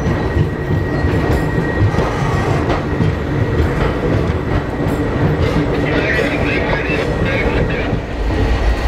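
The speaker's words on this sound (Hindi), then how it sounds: "हमारा लीडिंग लोकोमोटिव है गुटवी का WDP4B EMD 4008।" The Nandigram Express, hauled by a WDP4B EMD diesel locomotive, rolls on Indian track with continuous loud rumbling, rhythmic wheel clatter and a faint high whine, heard from on board.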